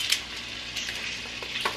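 Meat sears in a hot pan, giving a short burst of continuous close sizzling with a few sharper spits and no voices.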